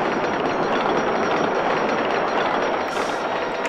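Roller coaster train with three trains and a loop running in Roller Coaster Tycoon 2, a steady, dense rumbling and clattering of rail cars that holds at constant loudness throughout, with no voices.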